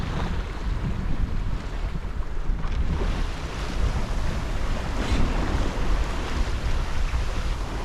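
Wind rushes steadily over open sea aboard a Cornish Crabber 26 sailboat crossing the Channel, a loud, continuous broadband roar with buffeting gusts and water wash, no voices.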